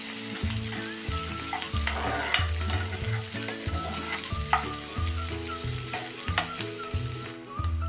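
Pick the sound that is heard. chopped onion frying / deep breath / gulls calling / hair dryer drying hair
chopped onion frying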